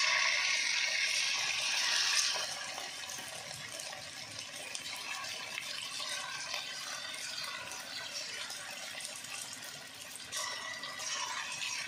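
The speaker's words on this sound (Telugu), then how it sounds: "అని ఆయిల్ వేడైందండి, చికెన్ ముక్కలు వేసుకుందాం." Chicken pieces for spicy chicken fried rice drop into hot oil with a loud initial hiss, then settle into a steady crackling sizzle that lasts throughout.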